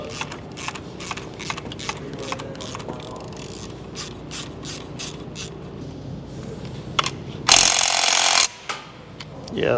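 A hand ratchet works loose engine bolts during a crate motor installation in a garage, giving a run of sharp, evenly spaced clicks, then a brief loud hissing burst before quieter clicks resume.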